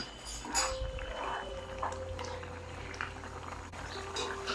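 Mutton spleen curry simmers in a pot with soft, irregular bubbling and occasional clinks, faint and close, in a quiet kitchen.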